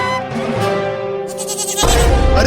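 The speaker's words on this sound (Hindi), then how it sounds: "अरे वाह, बकरी का बच्चा" A young goat bleats in a Hindi cartoon, a wavering, high, nasal cry that carries loudly over background music, with a sharper burst near the end.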